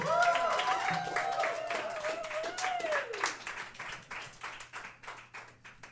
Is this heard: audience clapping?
yes